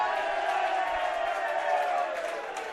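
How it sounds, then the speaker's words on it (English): Rugby league crowd at an away Batley Bulldogs match in 2021 roaring in a sustained cheer, a broad swelling noise that holds steady before easing off slightly at the end. "that gets a big cheer"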